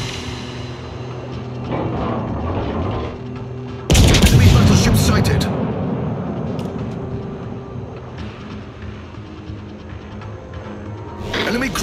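Cruiser main-battery gunfire in the naval combat game World of Warships, the Japanese cruiser Yoshino at Tier 10: a sudden loud booming salvo erupts partway through, with rumbling battle noise and voiced game callouts around it.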